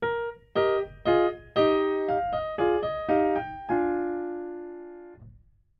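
Violins and viola of a Haydn string quartet play a short excerpt: a string of separate, rising harmonized chords with clear attacks, then one longer held chord that fades out. No voices.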